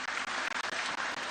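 Steady applause from a large live audience, a dense wash of many hands clapping at once that holds an even level throughout.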